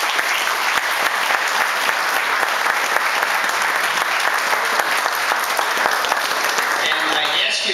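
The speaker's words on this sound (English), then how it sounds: "I'd like to give another round of applause to all of our honorees for their great works" Dense, sustained applause from an audience honoring award recipients at a women's awards ceremony, a continuous wash of clapping held at an even, loud level throughout.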